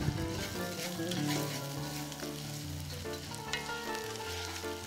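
Rice with turmeric sizzling and frying in a pot while being stirred, a dense steady crackle with scraping stir sounds, close and loud throughout, no talking.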